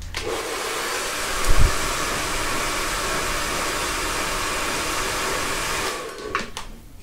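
A hair dryer blows loudly and steadily while drying a fringe, with a brief bump early on and the airflow cutting off near the end.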